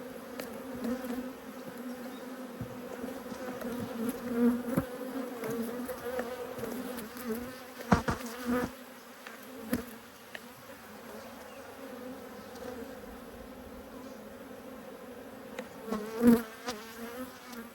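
Honey bees drone and buzz continuously around an open hive in an apiary during an inspection, a close, steady hum with occasional louder passes of individual bees.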